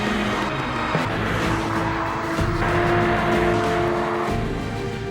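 A test car with a 1.6-litre TVCT engine is driven hard, making a loud, continuous engine roar that rises and falls with gear changes, with a hint of tyre noise and no talk.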